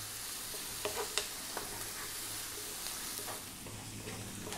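Garlic and ginger stir-fried in a pan over high heat, a steady close sizzle with a few sharp clicks of the utensil against the pan.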